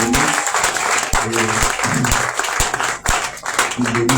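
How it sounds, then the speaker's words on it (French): Church congregation applauding at a Yom Kippur service in praise of an apostle, steady dense clapping over about four seconds with some voices mixed in. "On va acclamer pour lui."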